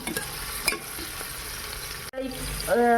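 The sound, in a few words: stirring onions and ground green masala in pan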